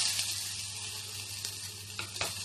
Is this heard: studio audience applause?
no